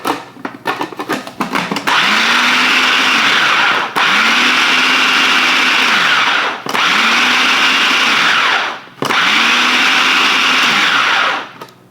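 An electric chopper whirs in four loud, sustained bursts as it chops garlic, oregano and breadcrumbs. Each run opens with a rising motor pitch, and short gaps separate them, after some initial rattling as the ingredients are loaded.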